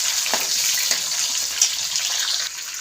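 Finely chopped green chillies frying in hot oil with cumin seeds in a pan, a steady broadband hiss of sizzling throughout with a few soft crackles and pops.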